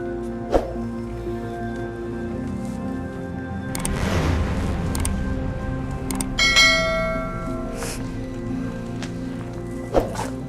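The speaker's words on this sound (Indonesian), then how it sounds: "Lonceng suci." A ritual bell is struck a few times, ringing close with a sustained metallic tone, while shuffling and rustling noises carry through the background.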